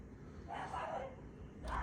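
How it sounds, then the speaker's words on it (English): A dog barks in a couple of short bursts, somewhat distant and muffled as if from another room, against a quiet indoor background. "my dog's going crazy. I don't know if you heard that."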